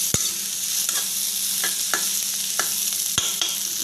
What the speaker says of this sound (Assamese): এতিয়া মই মেগীখিনি ভাজিম ইয়াতে